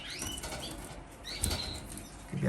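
Working birds flap their wings near a drinking trough, giving soft fluttering bursts and rustles at moderate volume with a couple of stronger wingbeat flurries.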